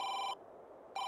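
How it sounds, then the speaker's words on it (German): A telephone rings in the video game Say No! More, in two electronic bursts separated by a short gap, clear and alone. "Das ist ein Telefon."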